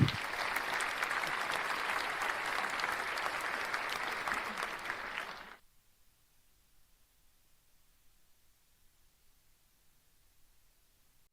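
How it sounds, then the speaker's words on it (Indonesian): A seminar audience applauds as a guest speaker is called onto the stage: sustained, full clapping from a crowd for about five seconds, then an abrupt drop into near silence. "Kita berikan tepuk tangan."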